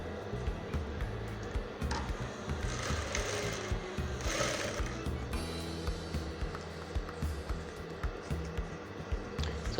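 A sewing machine stitches a waistband onto a simple skirt, giving a steady mechanical hum and rapid needle rattle that runs almost nonstop and close by, with no talking.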